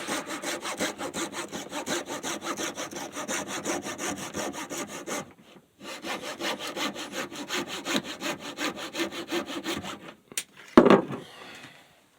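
A guitar shim being sanded with 400 grit sandpaper: steady, close back-and-forth rasping strokes in a continuous rhythm, a brief pause midway, then more strokes ending with a short knock.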